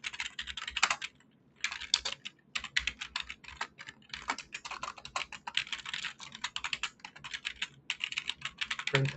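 Code being typed on a computer keyboard, a dense run of crisp close-up key clicks with a couple of short pauses, no talking.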